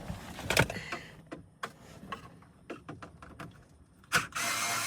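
Small wrench working a loose odometer fastener, heard as sharp metallic clicks and ticks in an irregular, quiet sequence. A louder scrape near the end leads into a soft rustle.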